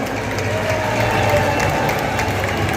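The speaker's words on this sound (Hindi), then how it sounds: "Let's give a big round of applause." Applause and crowd noise from an audience at a Tibetan cultural event held in a Dehradun mall, a steady dense clatter of many hands filling the space at moderate loudness.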